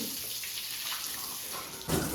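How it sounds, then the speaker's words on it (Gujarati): Water pours and splashes at home, a faint continuous running-water sound that swells briefly near the end; no one speaks. "આને પાણી ઢોળા સિવાય કંઈ કામ જ નથી પાણી ઢોળવું પડે"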